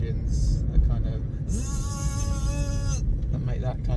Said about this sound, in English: riding around in really noisy scooters with small engines